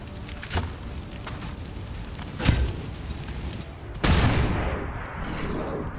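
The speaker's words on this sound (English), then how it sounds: "So sting grenade in." A sting grenade detonating in the XCOM 2 video game, a muffled burst followed by a louder crackling blast and a fading rumble over low background game ambience, with no talking.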